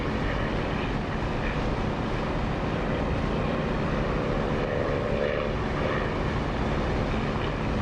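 An aircraft engine drones continuously after takeoff in the DCS flight simulator game, a dense, loud, unchanging roar with no breaks.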